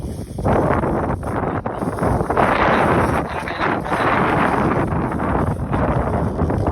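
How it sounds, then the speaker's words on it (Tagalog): Strong wind on a farm buffets the microphone in a continuous, loud roar with gusting swells throughout. "Grabe, napakalakas naman ng hangin."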